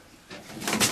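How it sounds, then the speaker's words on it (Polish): A pigeon in a racing-pigeon loft gives a short, soft coo that rises near the end, faint and alone against quiet background. "Jest tutaj na przykład gołąbek."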